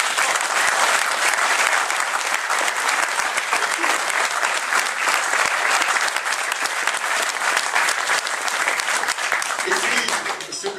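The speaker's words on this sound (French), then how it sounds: "je vous demande quand même, chaleureusement, de l'applaudir" An audience at a political meeting in France breaks into loud, dense applause that holds steady for about ten seconds before thinning slightly at the end, a close wash of many clapping hands with faint crowd voices mixed in.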